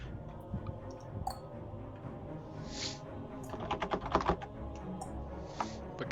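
Fast, uneven clicking of keys on a computer keyboard, fairly close, with a busier burst of keystrokes partway through over a steady room hum; no one talks.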